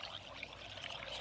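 Flowing water in Minecraft makes a soft, steady pouring hiss, faint and continuous, with no voices over it.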